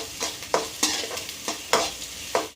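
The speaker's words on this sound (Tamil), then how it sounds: "நான் கீரை மிக்ஸ் பண்ணிக்கிறேன்." Arai keerai greens with chopped garlic stir-fried in a pan: a spatula scrapes and tosses in quick, regular strokes about every half second, crisp and close, over a light sizzle, with no voices.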